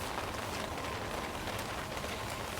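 Rain arrives over a hay hut as a dense, unbroken hiss of downpour, loud and close throughout.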